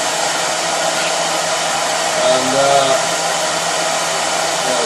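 The blower fan of a BMW E39 electric-vehicle conversion runs at high speed, giving a loud, steady, close rushing roar of moving air that holds constant throughout, with a brief murmur of talk partway through.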